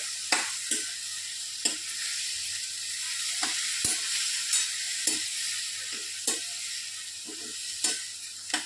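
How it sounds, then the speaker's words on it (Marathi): Cowpeas sizzle steadily in a hot pan with turmeric while a spoon scrapes and stirs them in regular sharp strokes every second or so, close and clear. "टाकत आहोत आपण ही चवळी चवळी चांगली मिक्स करायची आहे"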